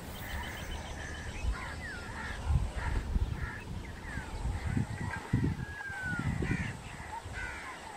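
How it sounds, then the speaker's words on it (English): Crows caw repeatedly over a newly planted paddy field, several birds calling at moderate distance with irregular bursts, against a low rumbling outdoor background. "lot of crows in the paddy field, newly planted paddy field"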